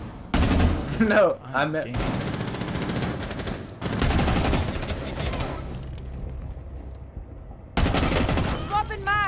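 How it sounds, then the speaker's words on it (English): Rapid automatic gunfire in Rainbow Six Siege, shots punched through walls in dense bursts that come and go, with someone talking over the firing. "Oh, just shooting through the walls?"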